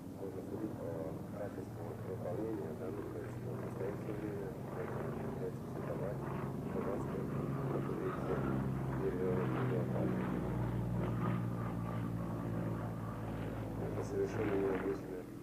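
A Yak-55 aerobatic plane flown by a Russian pilot drones steadily overhead, its propeller engine a constant hum. A narrator talks over it for almost the whole stretch.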